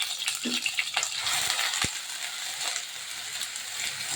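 Onion and garlic paste frying in hot oil in a pan, a steady crackling sizzle with scattered sharp pops and spatters throughout.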